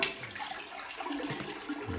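A repaired household toilet flushing, with water rushing steadily down the bowl for a couple of seconds, close and moderately loud, no talking over it.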